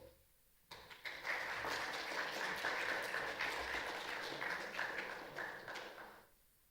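An audience at an intellectual property rights workshop breaks into applause, a steady crackle of many clapping hands swelling quickly and holding for about five seconds before fading out.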